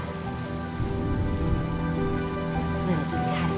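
Steady rain falls during a Honkai: Star Rail game cutscene, a dense, even hiss of drops spread across the whole stretch with no pauses, moderately loud and without speech.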